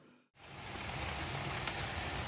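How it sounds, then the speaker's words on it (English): Steady rain falls in Southern California, heard indoors from a living room: a dense, even hiss that starts after a brief moment of quiet and continues alone. "So I'm just gonna enjoy the sound of the rain from my living room."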